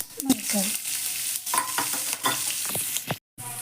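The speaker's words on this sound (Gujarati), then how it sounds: "તેલ મૂક્યું છે, તેલમાં રાઈ નાખી દઈએ, થોડું જીરું નાખી દઈએ, થોડી હિંગ નાખી દઈએ" Mustard seeds, cumin and asafoetida sizzle in hot oil with a constant crackling hiss and a few stirring scrapes, close and fairly loud, with a brief dropout near the end.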